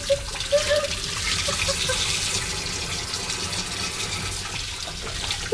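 Water poured over a neck buff packed with ice, a steady close splashing and trickling wash that continues throughout.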